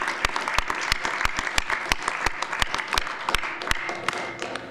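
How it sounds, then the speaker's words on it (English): An audience at a La Grange village board meeting gives a steady round of applause, with dense, crisp hand claps filling the room for several seconds and no talking over them. "maybe we can give Kelsey a round of applause"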